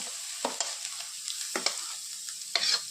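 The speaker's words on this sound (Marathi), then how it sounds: "हे पण मी थोडंसं परतून घेणार आहे तुपामध्ये" Grated carrot sautéing in ghee, a light continuous sizzle broken by several sharp scraping stirs of a spoon against the pan, close and without speech.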